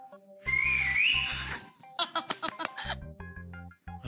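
A person whistles loudly in a sustained, rising tone that lasts about a second, followed by choppy bursts of further whistling and laughter-like sounds that come and go.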